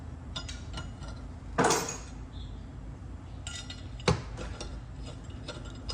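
Metal clicks and clinks of a Tusk valve spring compressor at work on the valves of a Honda Rancher 420 ATV engine, with two sharper metallic snaps standing out over a steady low background.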